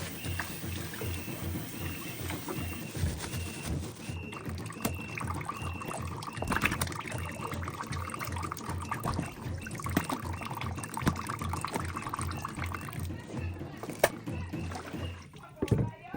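Leek and peppers are rinsed under a running tap, a continuous splash and trickle of water with small knocks and clatter of handling in a home kitchen, fairly soft and close.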